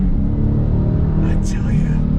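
A 2021 Dodge Challenger Scat Pack with a V8 engine and six-speed manual transmission accelerating, heard as a loud, steady, deep engine rumble that holds throughout without a break.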